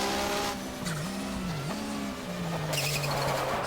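Race car engine at full throttle in the GTR2 driving game at Autopolis, a loud steady engine drone whose pitch dips briefly on shifts, then holds with tire noise and a brighter hiss near the end.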